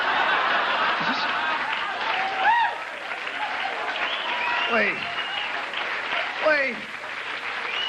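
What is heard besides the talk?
audience applause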